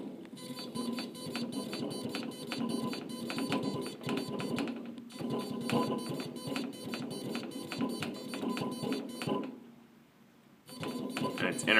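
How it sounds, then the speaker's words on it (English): Car A/C blower fan with an intermittent electronic surging fault, giving a repetitive ticking, buzzing pulse that runs steadily, drops out briefly near the end, then resumes; a person talks over it. "It's almost like it's a reverse surge on that blower fan, and it's making like an electronic, like a noise."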